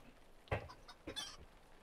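A chicken clucks a few times in Lord of the Rings Online, in short, quiet bursts with soft game sounds between them.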